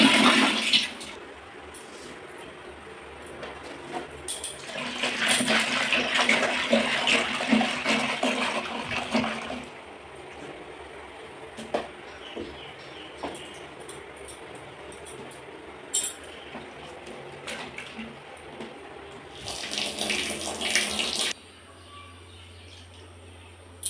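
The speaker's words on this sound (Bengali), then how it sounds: "তো এবারে চলে আসলাম জামা কাপড় ধুতে।" Water runs and splashes while clothes are washed by hand, in two loud bursts separated by quieter dripping, sloshing and faint clinks. Birds call softly in the background.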